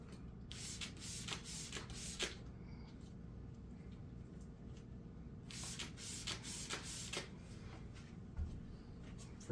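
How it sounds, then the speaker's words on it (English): A hand spray bottle spritzes a towel in separate hissing bursts, soft and close, with rustling handling between them against a faint steady hum. "I'm just going to spray this towel 3 times."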